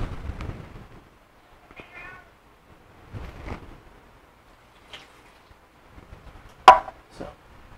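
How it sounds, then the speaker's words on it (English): A small domestic kitten meows several times in short, scattered calls in a quiet kitchen, with occasional soft knocks and clatter between them; no talking. "I'm babysitting a little kitty today, so you might hear her"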